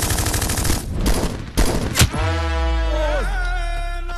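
Gunfire in a game, a rapid burst of close, loud shots in the first two seconds, then a sustained tonal droning sound with sweeping pitches.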